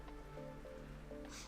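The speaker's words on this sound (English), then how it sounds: "Sorry if you hear the rain outside. I have my window open" Rain falling outside an open window makes a soft, steady patter in the background, with faint tones drifting beneath it and nobody talking.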